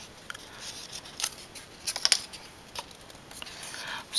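Paper is folded back and forth to make a snowflake card, producing soft, irregular crinkles and crisp creasing rustles close by, with no speech.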